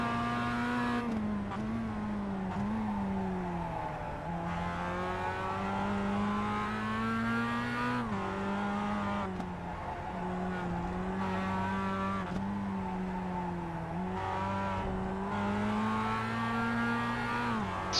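A Mazda MX5 race car in iRacing laps Jefferson at Summit Point, its engine note rising through the gears, then dropping as it brakes hard and downshifts, repeated across several corners with no talk.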